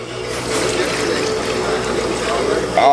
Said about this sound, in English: Then we're going to put this water on it.